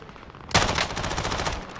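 Automatic gunfire in the video game Warzone breaks out abruptly after a short quiet stretch, a loud, rapid burst of shots that keeps rattling to the end, from a weapon with heavy recoil.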